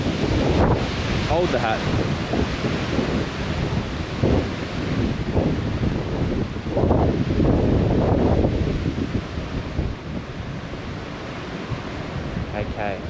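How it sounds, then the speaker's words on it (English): Strong gusts of wind batter the microphone outdoors on a snowy homestead, a loud, rushing roar that swells and eases, with brief talk over it. "Ooh, big gust of wind."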